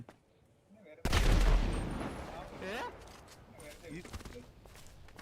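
A sudden loud burst of gunfire in a hostage-situation video game, then decaying echoes and scattered smaller shots, with players talking over it.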